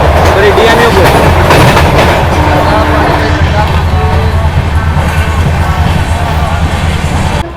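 Ayodhya Express train rolling at speed while overtaking a DMU passenger train on a parallel track, with a steady loud rumble and rhythmic wheel clatter throughout and a voice talking over it.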